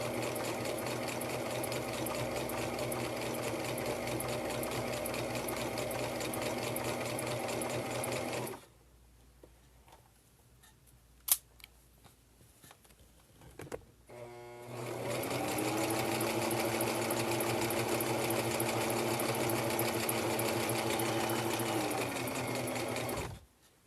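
A sewing machine stitches through fleece hat material in two long, steady runs of close, loud whirring, separated by a quiet pause with a few small clicks and handling noises.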